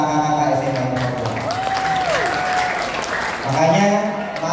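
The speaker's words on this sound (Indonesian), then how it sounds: "Tepuk tangan untuk kakak-kakak SMA di Cordova." Audience applause for senior high school students at an SMAIT Cordova school festival, a steady broadband wash of clapping filling the whole moment, with a voice and a sliding tone heard over it.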